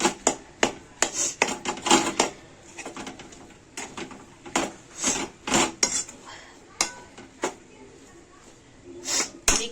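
Boiled vegetables mixed in a bowl for a veg frankie: sharp, irregular clinks and scrapes of a utensil against the bowl come in quick bursts, with pigeons cooing faintly in the background.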